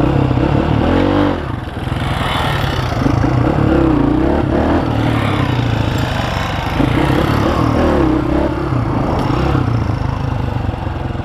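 A dirt motorcycle ridden across open fields, its engine droning loudly and steadily close by with rising and falling revs throughout.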